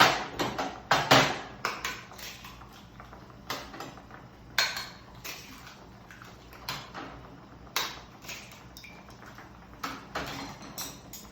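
Eggs being beaten in a bowl for Korean egg soup, a quick irregular series of sharp tapping and clinking strokes, close by, with quieter pauses between bursts and no talking.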